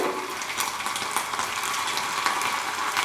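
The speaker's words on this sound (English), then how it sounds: "Into the heated oil and fry" Cauliflower pieces fry in hot oil with a dense, steady sizzle and crackle, close and continuous with small bursts of popping.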